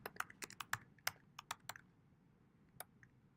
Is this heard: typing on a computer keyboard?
yes